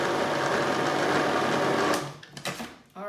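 A food processor whizzes cake batter made with eggs and baking powder in a loud, steady motor roar for about two seconds, then cuts out, leaving a few clatters and knocks.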